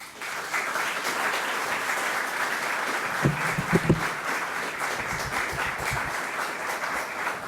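A studio audience applauds to welcome a guest on a French-language talk show, with sustained dense clapping and a few louder close claps midway through.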